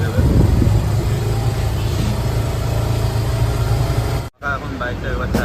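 A motorcycle engine idling steadily after servicing in a workshop, a constant mid-pitched hum with a brief dropout near the end, a voice talking over it.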